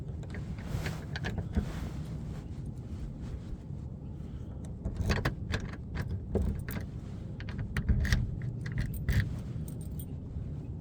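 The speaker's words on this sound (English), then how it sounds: "bear with me 1 second while I lock the door." A bunch of keys jangles and clinks continuously while a house door in Buffalo is being locked, with steady metallic rattling over faint outdoor background noise and no talking.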